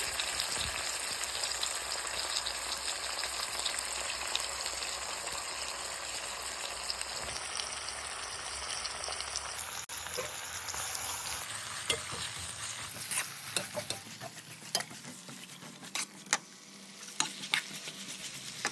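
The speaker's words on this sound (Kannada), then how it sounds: "ಈರುಳ್ಳಿ ಟೊಮೆಟೊ ಹುಳ್ಳಿಕಾಯಿ ಕ್ಯಾರೆಟು ಅದೆಲ್ಲ ನೀಟಾಗಿ ಆಯಿಲಲ್ಲಿ ಚೆನ್ನಾಗಿ ಫ್ರೈ ಆಗಬೇಕು" Onion, tomato, beans and carrot stir-frying in oil in a pan for sabudana upma, a soft continuous sizzle with scraping stirs that become sharper, scattered clicks toward the end, no talking.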